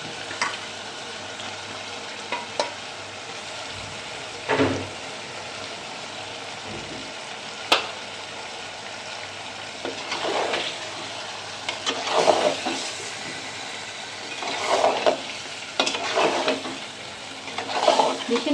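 Washed stinging catfish going into hot oil in a pan, giving a steady sizzle with a few louder bursts and scraping stirs, close by and continuous, with no talking.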